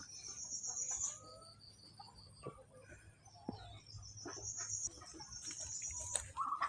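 Chickens cluck intermittently nearby in a coop shared with ducks, with scattered chirps and squawks over a quiet farmyard background.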